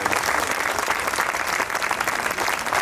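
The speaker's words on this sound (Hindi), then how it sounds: "मैं चाहूंगा कि आप सभी लोग एक बार जोरदार तालियां इस म्यूजिक के लिए" An audience at an unplugged music event claps loudly for the musicians, a thick, continuous burst of applause with crisp individual claps, sustained evenly and close.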